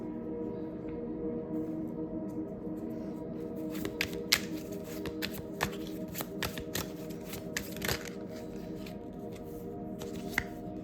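Tarot cards are shuffled close by in a quiet room, a steady papery riffle with sharp card snaps and flicks that grow more frequent toward the end, with no voices.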